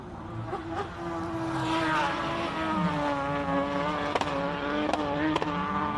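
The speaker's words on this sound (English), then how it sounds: "I thought it might have been the rev limit, but I think you're right, it's a misfire." A hill climb race car's engine revs unevenly with sharp misfiring pops and stutters as it accelerates, heard at moderate distance with a steady droning tone and occasional crackling bursts.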